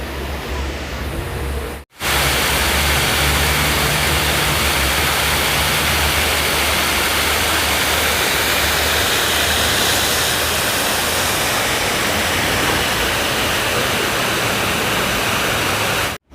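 Water rushing through the northern water gate of Suwon Fortress, a steady broadband roar that starts abruptly after a short gap and holds loud and constant throughout.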